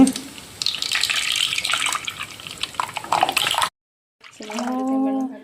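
Water splashes and streams into a cooking vessel for several seconds in a steady, fairly close pour, then stops abruptly before a short hum or voice follows.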